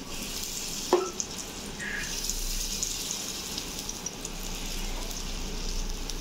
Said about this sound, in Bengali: এবার এগুলো দিয়ে দিই, বেসন গুলিয়ে রাখা বেসন